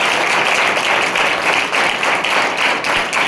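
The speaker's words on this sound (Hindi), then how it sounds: "तो चलिए आप सभी पेरेंट्स का, सभी अभिभावकों का एक बार जोरदार तालियों से हम स्वागत करते हैं।" Audience applauding loudly and steadily to welcome parents at a school event, a dense continuous crowd of clapping hands throughout with no voices.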